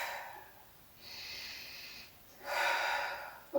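Soft breathy exhales during a pilates twist workout, two gentle airy breaths a moment apart, close and quiet with no talking.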